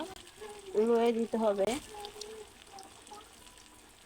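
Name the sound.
fish kofta frying in hot oil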